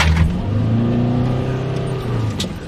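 A Pagani Zonda Monza pulling away hard from a green light, its engine note climbing steadily in pitch, easing briefly as if through a gear change, then rising again. The sound is loud, close and continuous.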